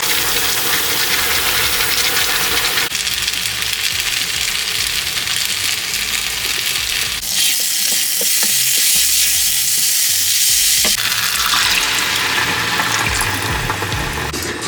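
Rice and curry cooking in water in a pan, giving a steady loud sizzle and bubbling hiss that runs throughout with little change, close by.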